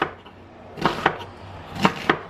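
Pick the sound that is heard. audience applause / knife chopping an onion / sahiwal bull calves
knife chopping an onion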